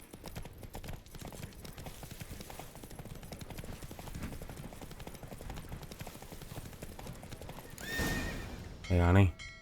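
Hooves clip-clopping fast and steady as the horse Roach gallops in a race in The Witcher 3 video game, with a neigh near the end, and a voice talking over part of it.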